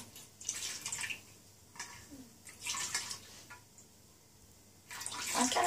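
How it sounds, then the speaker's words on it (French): Water poured from a vessel over hands during ritual handwashing, several close splashing bursts separated by short pauses, with no talking. "Et fais couler agréablement l'eau sur tes mains."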